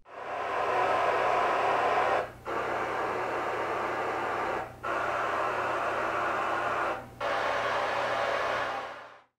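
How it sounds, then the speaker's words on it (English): Test tones from a Sony HT-A9 home theater speaker setup: a steady broadband noise signal in four long bursts separated by short gaps, loud and alone, with a low constant hum beneath. "And here you have the test tones if you want to manually adjust the rear channel levels."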